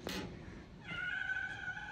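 A cat gives one drawn-out, fairly faint meow up close after a brief rustling burst, in a quiet room.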